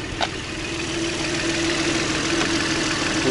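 Petrol engine of an Audi A6 C6 idling, a steady low rumble with a faint mid-pitched tone held evenly throughout, close by and with no talking.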